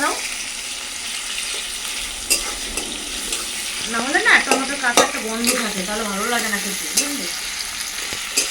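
Onions fry in a pan with a steady sizzle and scraping stirs, while a person talks over the latter half.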